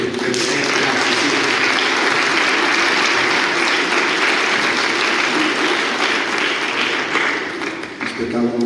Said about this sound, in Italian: I sindaci sanno applaudire, vero?